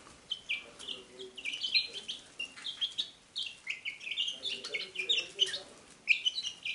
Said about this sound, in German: So hören sich glückliche Küken an.